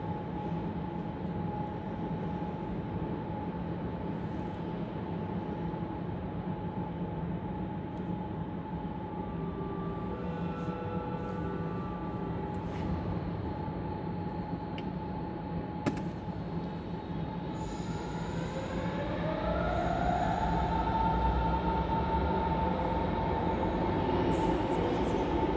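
A RE2 regional express train idles at a station platform with a steady low rumble and constant hum, brief clanks and hisses, then the engine note rises toward the end.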